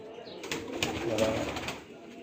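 Hammer-style female pigeon and others cooing in a loft, a soft continuous murmur of coos with faint wing and body movement close by, no talking.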